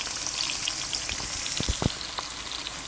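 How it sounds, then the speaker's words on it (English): Chives, garlic and green seasoning sauté in a pot for breadfruit cou cou, a steady soft sizzle with a few brief louder crackles near the end, no voices. "We add our garlic. We add our green seasoning. We're going to saute this."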